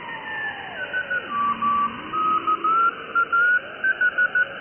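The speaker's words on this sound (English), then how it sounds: "There's your Morse code" Morse code keyed on the 80m ham radio band: a steady stream of short and long tone pulses with brief gaps, its pitch drifting slightly as the receiver is tuned, over a faint hiss.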